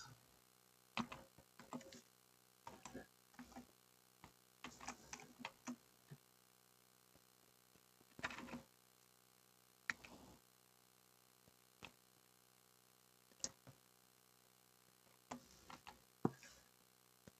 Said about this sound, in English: As I'm slow typing